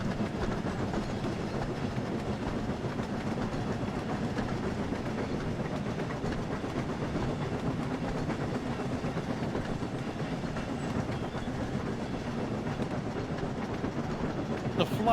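A steam train runs along the rails with a continuous rumbling, rhythmic clatter that stays at moderate level from start to finish, with no clear talk over it.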